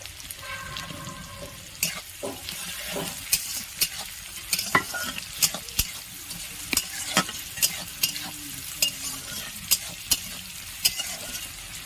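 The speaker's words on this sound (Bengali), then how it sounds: "পেঁয়াজ কুচিটা দিয়ে খুব একদম লাল করে ভেজে নেব" Chopped onion sizzles in hot oil while being browned, with a constant frying hiss broken by frequent sharp spatula scrapes and taps against the pan at an irregular rhythm, close and alone.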